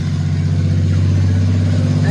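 A 2015 Chevy SS with a 6.2L V8, dual exhaust and the mid resonator deleted, holding a loud, steady, deep burbling rev close up for about two seconds, with a voice faintly under it.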